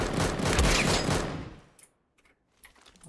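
Rapid gunfire in the video game Deadside, aimed at turrets, rattles loud and dense for over a second, then trails off into a few scattered quieter shots and clicks.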